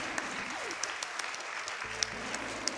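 Audience applause at an Awesome Games Done Quick 2018 speedrun event, a faint, continuous spread of many hands clapping at a distance, mixed with sharp game sound effects and a low game tone that enters partway through.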